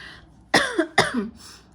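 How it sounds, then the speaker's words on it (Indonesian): Two sharp, close coughs in quick succession, loud and abrupt, with a faint hum before and after. "sorry aku batuk teman-teman"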